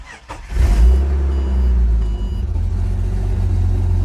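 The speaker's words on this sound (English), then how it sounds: "Let's check and see if it starts though." A used car's engine at an auction cranks briefly and catches, then settles into a loud, steady low idle close by, with no talk.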